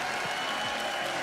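A large esports crowd at the Stockholm Major cheers and applauds in a dense, loud, continuous roar filling the arena, with no individual voices standing out.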